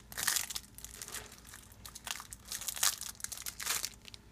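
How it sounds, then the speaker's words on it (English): Packaging around Shakespeare board game cards is torn and crumpled open, a close crinkling and crunching with several louder bursts of rustle, no talking. "So let's open these cards up and take a look at them."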